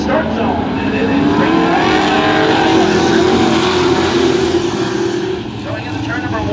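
Pro racing trucks roar around an oval track in a steady, loud engine drone with some tire noise. A commentator talks over it throughout.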